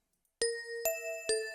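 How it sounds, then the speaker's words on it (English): A dro bell, a slightly modified vibraphone-like hand bell, struck three times in a steady rhythm; each bright metallic strike rings on with clear sustained overtones, close and clean with no talking. "the dro bell is really just a slightly modified vibra hand bell"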